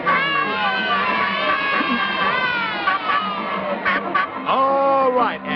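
Children in a Howdy Doody Show studio audience shouting and cheering together, loud and continuous, with high excited voices rising and falling in waves throughout.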